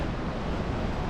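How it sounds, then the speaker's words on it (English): Steady wind rushes across the microphone on a zigzagging mountain trail in Farmington Canyon, Utah, in May: a continuous broadband roar with no gaps or other sounds. "it's windy today, and Clark's loving it."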